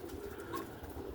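Roller pigeons give soft, low cooing in a short, faint burst.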